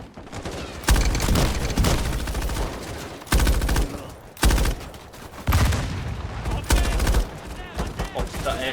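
Gunfire in the video game Modern Warfare, trench combat: dense bursts of automatic weapon fire in several loud volleys separated by brief pauses, with faint game voices between them.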